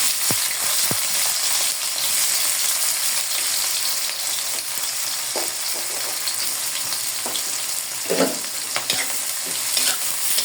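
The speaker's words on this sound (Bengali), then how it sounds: "পেঁয়াজটাকে আমি সুন্দর করে ভেজে নিব।" Chopped onions sizzle and crackle in hot oil in a wok, a dense steady hiss with scattered pops and occasional scrapes of stirring, loud and close throughout.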